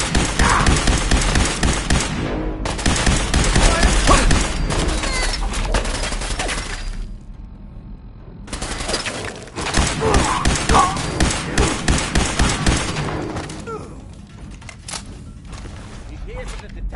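Bursts of rapid gunfire in the Fallout 4 video game, heavy volleys in two main stretches separated by a lull, with voices talking over the shooting.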